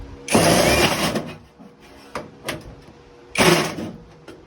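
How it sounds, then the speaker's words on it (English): A magnetic driver bit drives a screw into a drilled pilot hole during a mobile home vent duct repair, giving two loud whirring bursts separated by quieter clicks and handling noise, heard close. "the magnetic driver bit is holding that screw. And now I'm going into that pilot hole that I drilled"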